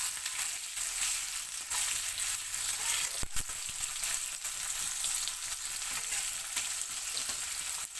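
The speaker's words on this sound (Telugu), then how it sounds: "ఆనియన్స్ వేస్తున్నాం. కొంచెం వేగేటప్పటికి మనం క్యారెట్ కూడా వేసుకుంటామండి." Onions fry in a pan for a vegetable roll, a steady close sizzle with one brief stirring clatter partway through and no speech.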